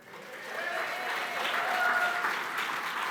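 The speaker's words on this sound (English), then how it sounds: "That's his Red Rock cheering section." Audience at a Northwestern Ontario Sports Hall of Fame induction dinner applauds steadily for a Red Rock athlete inductee, with a few cheers and whistles rising over sustained clapping that swells after a soft start.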